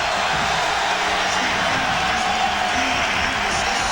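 Basketball arena crowd at an NIT Championship game, a loud sustained roar of voices with scattered cheers and whoops, steady and close, with a commentator speaking over it.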